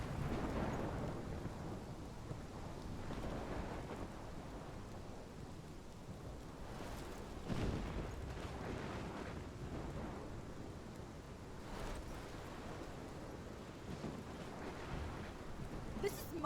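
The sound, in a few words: thunderstorm in the video game Life Is Strange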